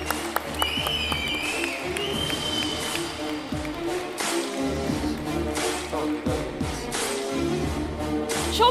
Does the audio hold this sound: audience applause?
yes